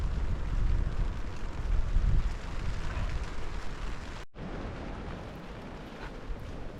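Steady rain pours down at a lakeside island campsite on Philip Edward Island, a dense, even hiss with wind-like rumble that drops out for a split second, then carries on.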